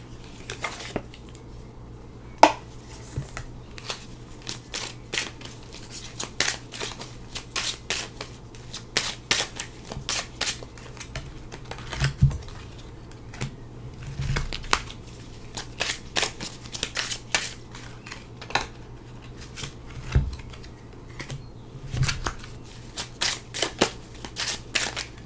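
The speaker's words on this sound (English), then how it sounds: "I'm finding the shuffling a little relaxing right now" A Lenormand card deck, the extended edition of the Gilded Reverie, is shuffled by hand in a quiet room, giving soft repeated riffles and crisp card snaps in irregular bursts over a low steady hum.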